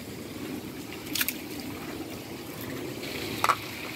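Water pouring and trickling at a Buddhist temple on the Ohenro pilgrimage route, a steady soft stream with a few brief splashy spurts, moderately close, with no talking.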